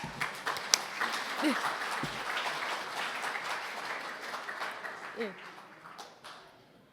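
A room full of people at an awards ceremony applauds in dense, steady clapping that fades toward the end, with voices murmuring underneath.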